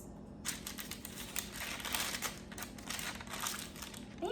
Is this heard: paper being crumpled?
yes